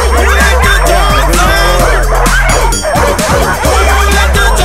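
A pack of sled dogs yips, barks and whines together in a loud, continuous, overlapping chorus, close by and excited, with no pause throughout.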